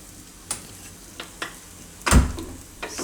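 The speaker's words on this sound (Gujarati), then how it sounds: "સેજ ધીમો ગેસ રાખીને એને શેકી લઈશું બે બાજુ ઘી નાખીને" Puran poli made with dates roasting in ghee on a low gas flame, a soft steady sizzle with a few light scrapes and one sharp clatter partway through, no voices.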